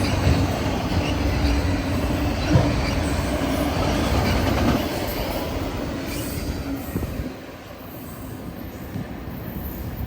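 A Union Pacific freight train carrying bulkhead flatcars rumbles past nearby with continuous clatter and squealing wheels, the roar easing slightly toward the end.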